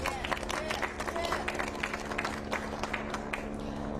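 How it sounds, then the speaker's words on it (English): Audience at a police press conference in Monterey Park gives a round of applause, moderately faint claps rattling steadily over a constant hum and low crowd murmur. "Sheriff Luna, please, a big round of applause."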